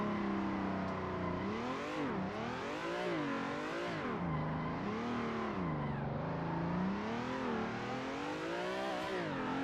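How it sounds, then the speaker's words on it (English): Car engine in the Assetto Corsa driving game revving hard while drifting in second gear, steady loud engine tone rising and falling in repeated sweeps throughout, with no talking. "And second gear is like the gear this thing wants to drift in."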